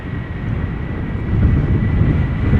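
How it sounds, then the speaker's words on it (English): A 21-year-old El Al Boeing 737-800 departs from Schiphol Airport, its jet engines a steady broadband roar that swells slightly louder midway through. "Next up, El Al flight 840 outbound Tel Aviv 737-800, 21 years old."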